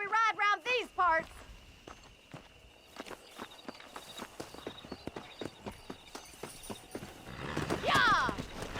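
A horse in the Western game Red Dead Redemption whinnies loudly, then its hooves beat out a steady, close clip-clop rhythm for several seconds, ending in a rush of noise and another neigh.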